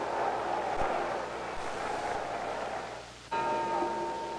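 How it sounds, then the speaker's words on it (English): A boxing ring bell sounds at the end of a round in a 1964 ten-round bout at Madison Square Garden, its ringing tone carried over a constant murmur of crowd noise on an old broadcast recording. "There's the bell."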